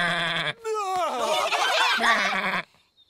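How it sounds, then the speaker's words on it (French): A cartoon sheep bleats twice, a short high bleat followed by a longer wavering, quavering one, loud and close with no talk over it. "Le mouton a dit « bé »."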